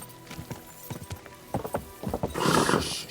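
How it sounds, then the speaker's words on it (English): Horse hooves clip-clop in Kingdom Come: Deliverance 2, a run of uneven wooden-sounding steps near and clear that thicken into a louder, busier patter toward the end, with a brief horse whinny mixed in. "I wonder if it'll let me bring my horse through the gate."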